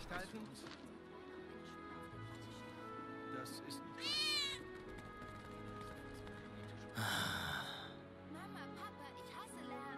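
Cat meowing inside the video game Final Fantasy 7 Remake, two short rising meows that stand out clearly over continuous game music and ambience.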